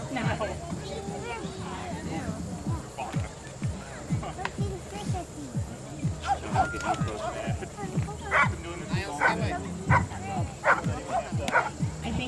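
A Chesapeake Bay Retriever barks repeatedly in quick bursts at a dock diving event, fairly close, with some yips mixed in while people talk over it.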